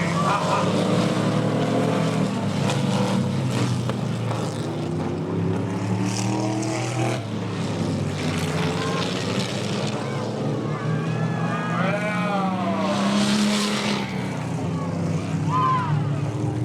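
Old IMCA oldtimer race cars roar around a track at a pioneer village exhibition, engines rising and falling as they pass, with someone talking over the noise.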